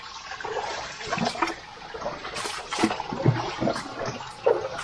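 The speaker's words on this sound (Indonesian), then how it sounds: "Loh ini sungai bawah tanah ini." An underground river flows through a cave at Goa Kiskendha in Kandangan, Kediri, a rushing, gurgling wash of water that swells and eases, fairly close and loud.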